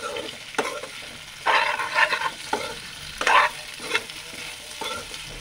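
Pigeon meat sizzles and crackles in a hot pan, with bursts of stirring and scraping recurring every second or so, close and fairly loud.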